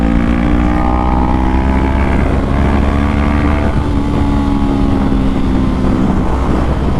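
A 2020 Honda CBR500R motorcycle engine pulls steadily under acceleration, its rising harmonic drone loud and continuous alongside heavy wind rush throughout, with no voices.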